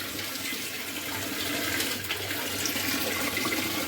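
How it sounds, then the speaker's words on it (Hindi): Steady rush of water pouring from a tap into a container, continuous and fairly loud throughout with no voices. "अब मैं फटाफट से पानी भर लूँ"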